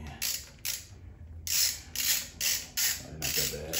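Bolt being threaded by hand into freshly painted holes on a G-body's LS-swapped engine to chase the threads, a close series of short ratcheting, creaking metal bursts with brief pauses between them.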